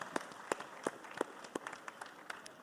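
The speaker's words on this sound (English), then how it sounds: "can we please give him a warm round of applause?" Thin, scattered clapping from a small audience at the Invest Lagos 3.0 business summit welcoming Barrister Ismail Ahmed, a handful of distinct claps spaced out and fairly faint.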